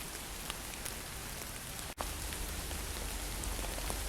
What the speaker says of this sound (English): it has really been raining for the last half hour